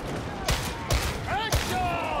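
Gunfire while shooting enemies in the video game Warhammer 40k Darktide: three sharp, fairly loud shots spaced roughly half a second apart, each with a short ringing tail over steady background game noise.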